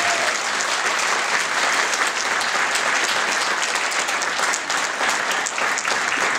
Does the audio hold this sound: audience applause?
yes